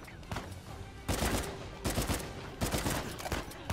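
Gunfire from Uncharted 4: A Thief's End, in the New Devon stage: repeated loud bursts of shots in two or three clusters, constant over a busy game soundscape, with no talking.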